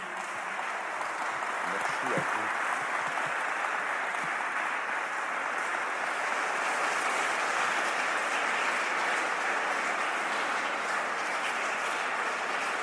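An indoor audience at a national pilgrimage talk claps in a sustained, dense round of applause that holds steady from start to finish without any speech.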